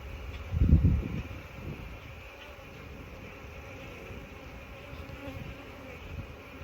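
Honey bees hum steadily around an open hive, a low buzz with a brief louder burst near the start as the insects pass close to the microphone; there is no talking.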